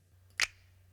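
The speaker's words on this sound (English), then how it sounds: "and then this snap" A single snap sample from a drum kit, one sharp crisp click near the middle of an otherwise quiet moment, dry and close.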